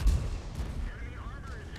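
A tank gun fires from the SU-130PM in World of Tanks: one heavy, booming shot right at the start, then a low, rolling rumble that fades away.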